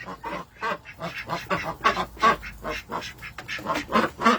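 Ducks quacking on a homestead in the morning, a dense run of repeated calls one after another at close range, fairly loud and continuous with no talk over them.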